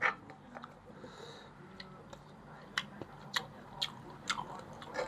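Someone chews a spicy pounded shrimp salad made with hog plum, soft wet mouth sounds and a few sharper crunchy bites spaced across several seconds, close and fairly quiet, with no talking.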